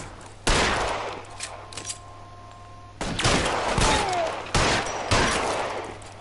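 Gunfire in the video game L.A. Noire: several loud, close bursts of shots in quick clusters, each ringing out briefly before the next volley, with no talking.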